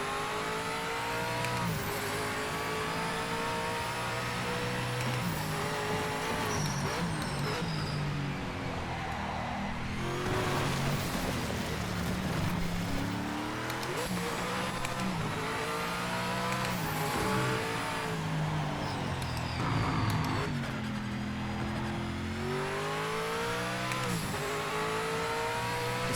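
LMP prototype race car engine in Project Motor Racing, loud and continuous, rising and falling through gear changes as it revs hard and shifts, with occasional tire squeal over a steady high-pitched drone.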